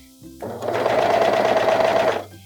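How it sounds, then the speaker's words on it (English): A serger stitches the princess seam of a fabric bralette in one steady, continuous run lasting about a second and a half, loud and close with no voices over it. "we're going to serge the princess line here"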